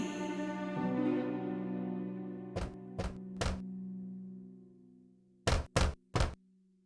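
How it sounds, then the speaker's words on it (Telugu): A wolf knocks on a door in a children's story, two crisp sets of three hollow thumps separated by a pause, played over a fading musical tone. "ఆ తర్వాత వాళ్ళ ఇంటి వద్దకు వచ్చి తలుపు తట్టింది"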